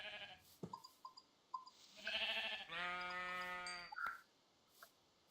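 Synthetic sheep bleats, a couple of drawn-out wavering baas in the middle, with a few short game sound effects around them.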